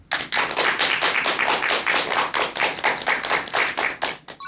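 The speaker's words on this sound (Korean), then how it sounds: "큰 박수 부탁드립니다." An audience at a lecture claps in steady unison, a brisk, evenly spaced run of about a dozen sharp claps at close range.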